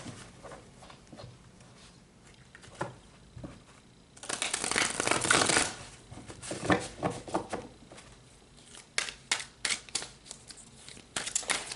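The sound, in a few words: shuffling tarot cards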